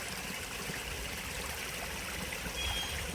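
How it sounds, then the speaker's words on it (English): Spring water trickles out of muddy ground on a hillside, making a steady, soft burble nearby with a faint bird chirp near the end. "The water's coming out of the ground right in that spot over there."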